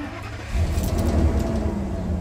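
A Ford Triton V10 gas engine in a 2000 Gulf Stream Class A motorhome cranks and catches, then settles into a steady, loud, close idle rumble.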